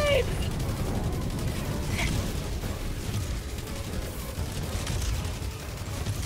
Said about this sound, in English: They're shooting me from down low there.